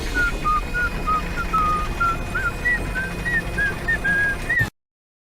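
A person whistles the 1987 Teenage Mutant Ninja Turtles theme melody as a clear, steady tune of short pitched notes over low background noise, with no talking.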